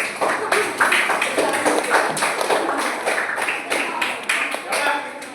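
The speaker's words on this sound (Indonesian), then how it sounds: "Kita tepuk tangan dulu buat temannya yang sudah maju jawab." Students in a class clap for a classmate who came forward to answer, a close, moderately loud patter of hands lasting the whole stretch, with irregular accents and a voice heard amid the clapping.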